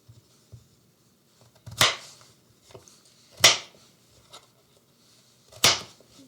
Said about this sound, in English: Just dice them in small parts here, just like that.